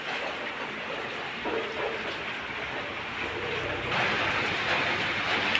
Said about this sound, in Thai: เดินดูฝนรอบบ้าน